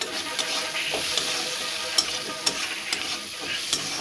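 Spices crackle and sizzle in a hot pan while a spoon scrapes and stirs, sharp clicks of the utensil against the metal punctuating a steady frying hiss.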